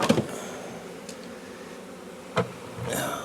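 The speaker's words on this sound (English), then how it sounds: "There's bees on the handle." Honeybees buzzing around a swarm box, a faint continuous hum of many insects close by, broken by a few sharp knocks and handling bumps.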